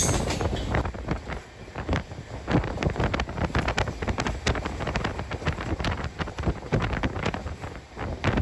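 An Intercity Express train between Rajkot and Ahmedabad runs at speed: a loud, steady rumble fills the whole stretch, with rapid rhythmic clacks and wind buffeting layered on top, and no voices.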